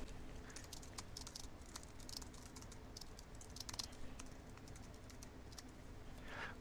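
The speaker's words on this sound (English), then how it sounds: "I'm going to type the information that I want in my repetitive email." Steady typing on a computer keyboard, a quick irregular run of light close clicks continuing through the whole clip over a faint room hum, with no talk.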